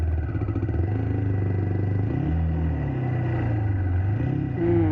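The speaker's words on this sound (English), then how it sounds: "The rear wheel is slipping really, really bad." A motorcycle engine revs and surges in uneven bursts as the rear wheel spins and slips on soft clay soil along a forest track. The pitch rises and falls repeatedly, close and loud, with no talking.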